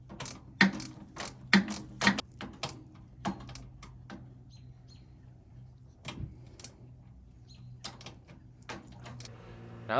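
Ratchet clicks in short bursts while the transmission, a Peerless 700-035 on an Exmark 48-inch mower, is tightened down, with sharp close metallic ticks and pauses between runs over a low steady hum.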